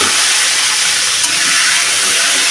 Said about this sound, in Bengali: আলুগুলোকে দিয়ে একটু হালকা করে ভেজে নেবো